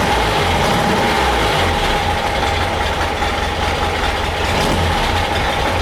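Porsche 912 flat-four engine running at a steady fast idle, a loud, close, constant low throb with no clear rise in revs.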